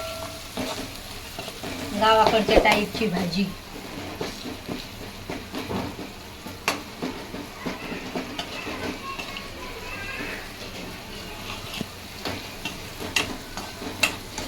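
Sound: spices, green chillies and garlic frying in a pan

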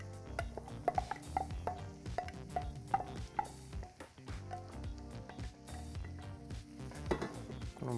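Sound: onion added to melted bacon fat in pan

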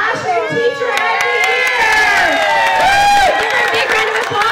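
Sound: crowd cheering and applauding for a teacher award

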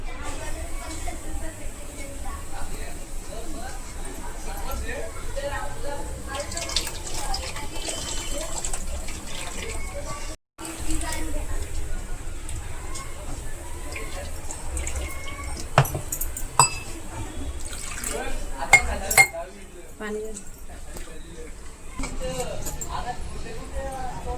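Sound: straining water from cooked crabs

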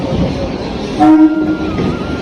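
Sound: train arriving at station

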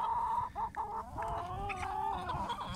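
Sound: chickens clucking

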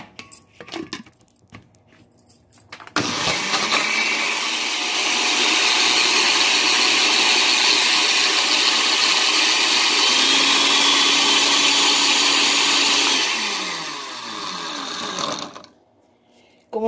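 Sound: blender blending avocado seed, Nivea cream and grape seed oil

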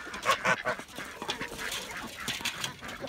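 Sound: geese honking

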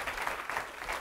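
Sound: audience applause

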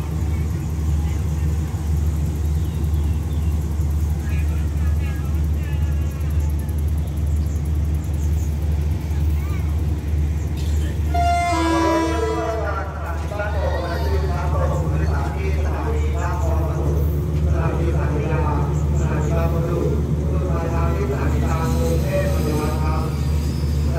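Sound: Rapid train 170 entering Ban Pong station

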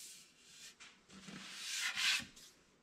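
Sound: sanding wooden dovetail drawer joints

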